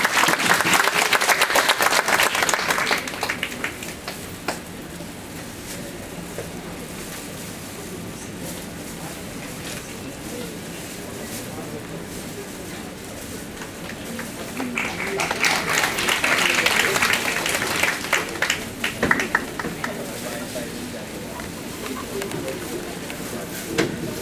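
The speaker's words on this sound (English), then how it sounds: "a round of applause" An audience at a formal ceremony breaks into applause, a burst of clapping that fades and later swells into a second round, with a quieter murmur of the room between.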